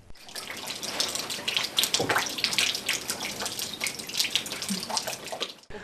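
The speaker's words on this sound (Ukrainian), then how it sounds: "Стіни помокріли на землі калюжі, а з труби водопад." Water gushes from a burst pipe into a flooded apartment-block basement in Rivne, a loud continuous splashing rush that carries on without pause from start to finish.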